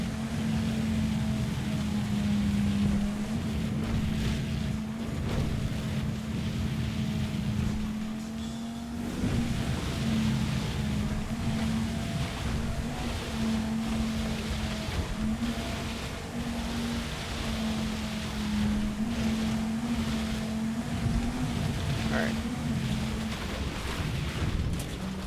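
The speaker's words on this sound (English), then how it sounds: "I feel like this 9F just doesn't sound right though. It feels too low and throaty from what I expect" A Pegasus 9F sports car in GTA Online drones on with a steady, low, throaty engine note that holds nearly level for the whole stretch, with only slight rises and dips against a rushing wind-like background.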